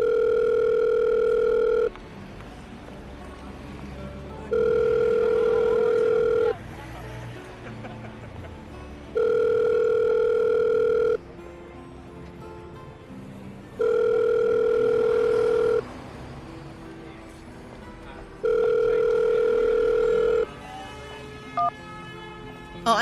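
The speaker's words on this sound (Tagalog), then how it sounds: "Ring ng ring eh" An unanswered phone call rings back in regular bursts, each steady tone lasting about two seconds with pauses between, clear and prominent over a quiet background.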